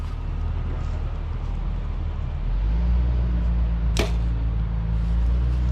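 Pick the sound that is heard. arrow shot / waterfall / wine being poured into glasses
arrow shot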